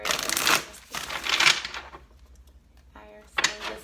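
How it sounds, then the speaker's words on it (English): Tarot cards shuffled in quick bursts, crisp riffling sounds close up with brief pauses between shuffles. "This will be our last shuffle."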